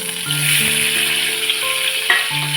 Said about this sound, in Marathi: इथे आपण एक कढई घेतलेली आहे त्यामध्ये आपण टाकूया तेल आणि त्यामध्ये पिळून घेतलेलं कारलं